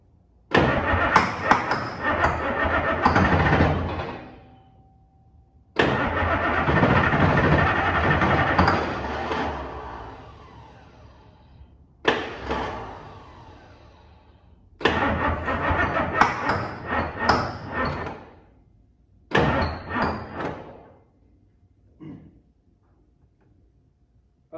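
International 9 liter diesel engine cranking in several long bursts separated by silences, the starter grinding and the engine coughing and catching briefly, loud and close.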